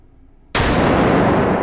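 A thrown grenade detonates in the VR shooter H3VR, a sudden loud blast that lingers as a broad roaring rumble after near silence.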